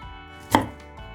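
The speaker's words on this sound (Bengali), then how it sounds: "একদম সরু সরু করে কেটে নেব।" A single sharp knife chop through a medium-sized onion on a cutting board, one clear close strike with a faint follow-up tap, for chicken soup with vegetables.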